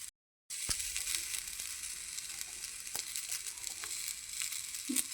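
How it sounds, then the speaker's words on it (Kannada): Toor dal dry-roasting in a pan over a low flame gives a soft, steady sizzle and crackle, quiet and close, with occasional scrapes and taps of a spoon stirring the lentils. "ಸಣ್ಣ ಉರಿಲಿ ನೀಟಾಗಿ ರೋಸ್ಟ್ ಮಾಡ್ಕೊಳ್ಳಿ"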